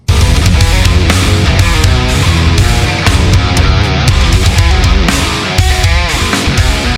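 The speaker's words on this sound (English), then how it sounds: "That is the Line 6 Badonk amp" Heavy, high-gain electric guitar through the Line 6 Badonk amp model on a Helix, chugging palm-muted riffing with thick low end and sustained chords, loud and dense throughout with no talking.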